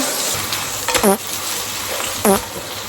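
Chicken and potatoes frying in a pan give a steady crackling sizzle throughout, broken by two short bursts of voice or clatter close to the microphone.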